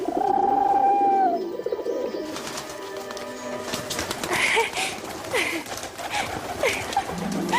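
Small birds coo and flutter in an animated Cinderella film, soft repeated dove-like calls and chirps over a light musical score, fairly close and continuous.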